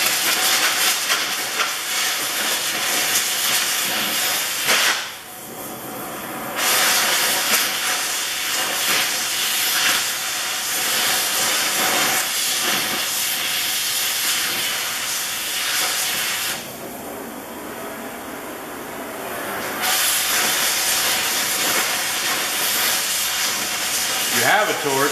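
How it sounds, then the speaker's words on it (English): A hot torch hisses steadily while burning grease off a bearing ahead of welding, a loud continuous roaring hiss with two brief pauses as the flame is pulled away. "So I'm just going to use the hot torch just to burn the grease off."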